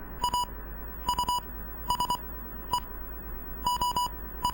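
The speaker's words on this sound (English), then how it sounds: "They are doing it in Morse code." Short electronic beeps tapped out in Morse code during a cutscene in the arcade-style war game Ikari Warriors II. They come in clipped clusters of one to four tones with brief pauses between groups, over a faint steady hiss.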